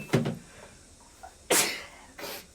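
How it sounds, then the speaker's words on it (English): Sneezing from a dust allergy during a cleanout of hoarded beauty products, with a first burst, then a louder sharp sneeze and a weaker one close behind, all near and clear in a quiet indoor room. "I'm allergic to dust, so I will be sneezing and things like that."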